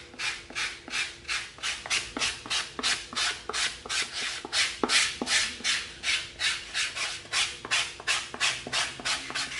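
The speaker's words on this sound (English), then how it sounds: "Let's come in with our 80 grit sandpaper." Coarse 80-grit sandpaper rubs back and forth on EVA foam in a steady, rhythmic rasp, roughly two strokes per second, close and continuous for the whole stretch, with no voices.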